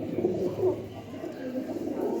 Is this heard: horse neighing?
no